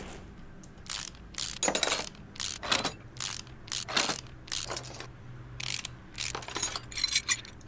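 Removing a clutch in Car Mechanic Simulator 2018 produces a rapid series of crisp metallic clicks and clinks, irregular and close, with no talk.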